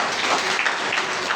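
A church congregation claps hands together in a short, dense burst of applause that fills the room at moderate loudness.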